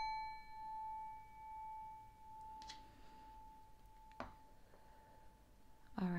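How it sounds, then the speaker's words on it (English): A single bell is struck, ringing out with a clear metallic tone and long sustained overtones that slowly fade, followed by a few soft knocks and clinks in a quiet room. "I'm gonna ring the bell one time."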